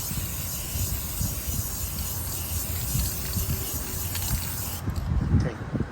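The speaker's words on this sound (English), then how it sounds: "Now let's apply the clear coat." Clear coat sprays onto a restored fog light lens of a 987 Porsche Boxster as a steady, close aerosol hiss that runs unbroken for several seconds with no one talking.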